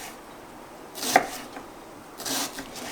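A knife chops steak into strips on a cutting board, giving two separate bursts of cutting about a second apart, close and fairly loud with a quiet pause between them.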